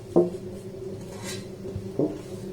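Mustard oil is spread around the inside of a pot with a metal utensil while making raw mango aamsatta, giving two clear clinks of metal on the pot with a soft, quiet stretch between them.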